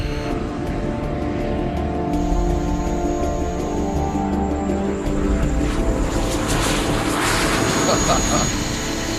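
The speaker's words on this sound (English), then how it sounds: "And the noise of the engine's rising." Cold War era jet trainer aircraft engine roaring continuously, its pitch and intensity building with a high whine climbing toward the end; the noise fills the cabin loudly throughout.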